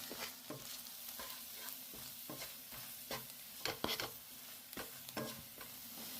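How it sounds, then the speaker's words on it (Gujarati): A spoon scrapes and stirs dry spices, salt, coriander-cumin powder, turmeric, garam masala and Maggi seasoning, through a frying pan, giving a soft steady rasp with a few sharper clicks and faint sizzle, close and quiet with no talk. "આ બધું મિક્સ કરીશું।"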